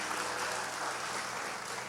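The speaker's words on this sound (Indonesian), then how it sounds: "Tepuk tangan buat Tuhan Yesus." A congregation at a Sunday church service at ERC Sawangan applauds in a brief, soft burst of clapping that stays distant and fairly even throughout.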